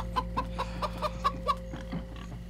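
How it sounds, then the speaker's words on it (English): Chickens in the video game Minecraft: Story Mode cluck in a quick series of about seven short, evenly spaced clucks over a low steady background hum. "Don't kick the chickens."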